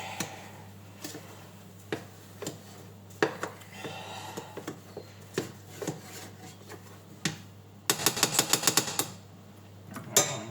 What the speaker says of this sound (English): Now we stir that in.